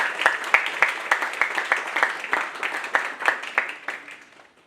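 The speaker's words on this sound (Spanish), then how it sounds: "un fuerte aplauso para él" A crowd applauds with many hands clapping steadily, sharp claps standing out near the front, the ovation fading away at the end.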